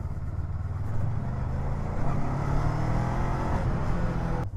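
A Kove 500 motorcycle rolls in second gear with no throttle, its engine giving a steady low, even chugging rumble throughout, close and moderately loud, with wind and road noise and no talking.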